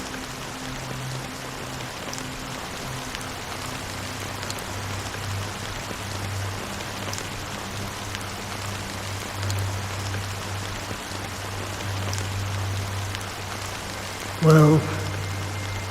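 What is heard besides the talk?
rain falling in video game Honkai Star Rail, Penacony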